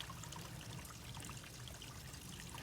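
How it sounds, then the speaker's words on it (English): Water trickling and dribbling steadily down along a muddy hiking trail in the mountains, a faint continuous burble with no voices over it. "So you can see the water coming down a little bit"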